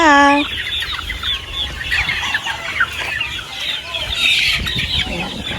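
Chickens in a brooder at a game farm, a close loud crow or squawk at the start, then continuous overlapping clucks and chirps from many birds, with some wing flapping.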